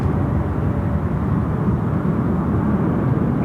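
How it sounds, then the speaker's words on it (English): A DHL Kalitta Boeing 777 freighter departing a runway at Sydney Airport, heard as a loud, continuous low jet roar that holds steady throughout, with no voices. "Wow, what a departure."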